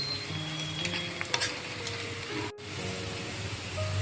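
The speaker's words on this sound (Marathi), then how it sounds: "कांदा छान असा भाजून झालेला आहे" Onion frying in oil in a pan for lasuni methi, a continuous close crackling sizzle with occasional stirring scrapes, no talking.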